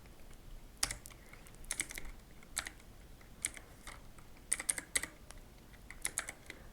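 Keystrokes on a computer keyboard while entering settings on a PC, heard as quiet scattered clicks in short irregular bursts, close by, with no talking.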